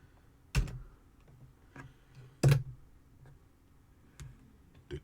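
A few isolated computer keyboard key presses, sharp single clicks spaced irregularly over a quiet room, close and fairly soft, with no talking.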